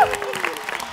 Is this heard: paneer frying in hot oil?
no